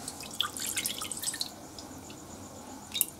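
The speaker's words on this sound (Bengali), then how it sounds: "কড়াতে আমি জল দিয়ে দিচ্ছি।" Water poured into a cooking pan in a village kitchen, heard as a light, steady splashing and dripping with a few brighter drops, fairly close and quiet, and no talk.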